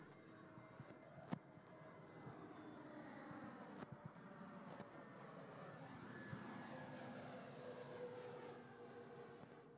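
A fixed-wing airplane drones steadily overhead during an outdoor opening ceremony for a cricket league, a broad continuous engine roar holding for the full stretch with a few faint knocks and no talk over it.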